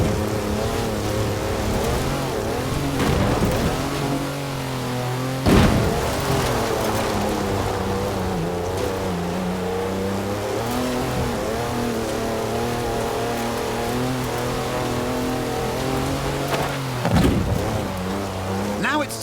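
A 340-horsepower car in Forza Horizon 4 drives with a steady engine drone that climbs and falls through gear changes, loud and continuous, with someone talking over it.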